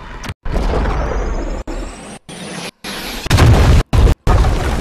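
Artillery strike explosions in the Modern Warfare video game, a loud rumbling blast cut by abrupt silent gaps, followed by heavier booming bursts near the end.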